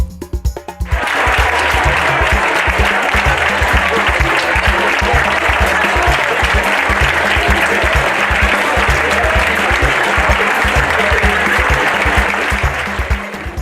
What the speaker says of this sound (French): la célèbre Geneviève de Fontenay, acclamée comme il se doit à son arrivée